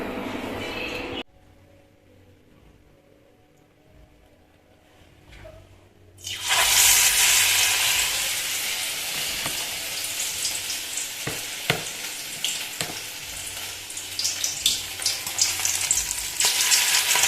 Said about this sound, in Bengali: তো আমি এগুলো ফ্রাই করে নিই ঘি দিয়ে